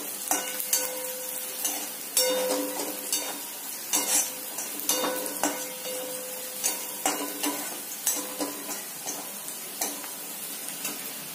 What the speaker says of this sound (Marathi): लसूण, मिरची, कांदा छान असं ब्राऊन होईपर्यंत थोडंसं हलवून घेऊया आपण.